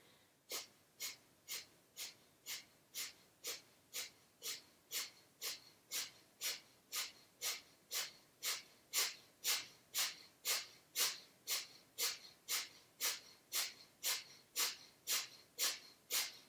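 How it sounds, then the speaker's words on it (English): Gentle breath of fire yoga breathing: rapid, even, forceful nasal exhalations repeat about twice per second throughout, each a short sharp puff, close and clear with no talking. "Closing the eyes, and we're going to do a gentle breath of fire."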